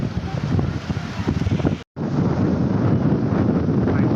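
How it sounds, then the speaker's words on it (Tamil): Strong, steady wind on Panambur beach, India, buffets the microphone with a loud, roaring rumble, broken by a brief dropout, then continuing just as forcefully. "பீச்சில் தாங்க நான் இவ்வளோ காற்றும் அதான் இவ்வளோ அடிக்கிறத இப்போ தான் பார்க்குறேன்"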